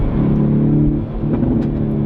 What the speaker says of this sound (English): It makes it so much more fun to drive with those pops and crackles